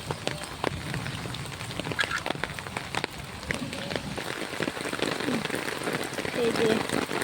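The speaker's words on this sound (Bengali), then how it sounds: "এই যে কি পরিমাণে বৃষ্টি হচ্ছে, বাইরে বেরানো যাচ্ছে না" Heavy rain pours steadily onto a paved road and a flooded field beside a house, a dense continuous hiss with scattered louder drop impacts throughout.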